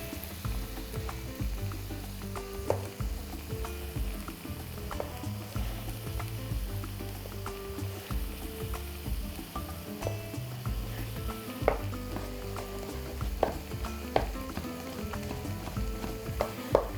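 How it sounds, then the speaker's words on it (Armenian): Chopped hunting sausage and ham fry with onions in a pan, giving a steady close sizzle with occasional stirring clinks and scrapes throughout. "Վերցրել եմ 100 գրամ որսորդական երշիկ և 150 գրամ խոզապուխտ, մանր կտրատում և ավելացնում ենք սոխերած։"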